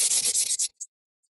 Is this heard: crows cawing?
no